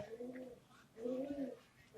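A domestic pigeon coos softly in two drawn-out, throaty calls, close by but faint in a quiet indoor setting.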